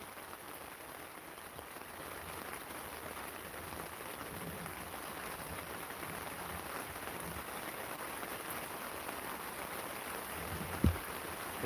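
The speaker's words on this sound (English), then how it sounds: "It's pouring, bro." Heavy rain pours steadily onto a tent and ground outside during a late-night truck welding session, a dense continuous hiss holding even throughout, with a brief sharp knock near the end.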